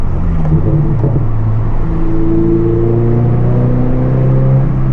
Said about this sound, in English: See if we can do a little downshift right here for the M3.